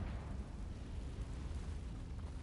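A Confringo blasting spell erupts in Hogwarts Legacy as a steady, low rumbling burst of fiery noise that fills the whole moment without pause.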